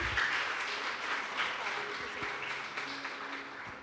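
A church congregation applauds in a steady wash of clapping, with some voices mixed in underneath.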